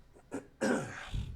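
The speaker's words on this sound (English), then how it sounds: "I got to clear my throat." A man clears his throat on a podcast: a couple of short guttural rasps building into one longer harsh throat-clearing burst, close to the microphone with a low grunt trailing after.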